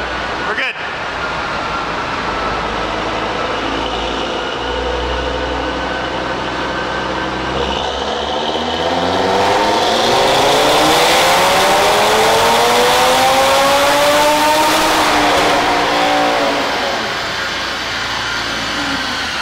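Audi RS3 with a turbo inlet, set to front-wheel-drive mode on a dyno, revs hard through rising engine sweeps that climb to a loud peak and ease off, with faint talk in the background.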